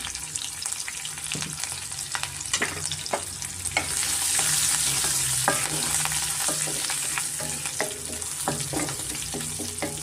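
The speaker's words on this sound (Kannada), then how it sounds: "ಸ್ವಲ್ಪ ಫ್ರೈ ಆದಷ್ಟು ನಾವು ಇದಕ್ಕೆ ಶುಂಠಿ ಮತ್ತು ಹಸಿಮೆಣ್ಸಿನ್ಕಾಯಿ ಸೇರಿಸ್ಕೊತಾ ಇದ್ದೀನಿ ಅದು ಸ್ವಲ್ಪ ಎಣ್ಣೆಯಲ್ಲಿ ಬಾಡಿಸ್ಕೊಳ್ಳೋಣ" Ginger and green chilli fry in hot oil with a steady, close sizzle that swells louder midway, broken by frequent sharp crackles and spatter pops. No voices are heard.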